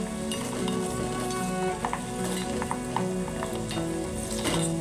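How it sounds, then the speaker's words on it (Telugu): Ginger, onion, fenugreek, coriander and cumin seeds sizzle steadily in hot oil as a tempering for a grated mango pickle, with a close, continuous crackle and faint stirring sounds throughout. "మంచిగా తాలింపు పెట్టుకోవాలి"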